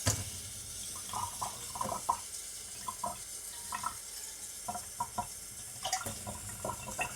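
Tap water runs into a pot for making chai, a close, splashy gush that comes in uneven bursts over several seconds with no voices.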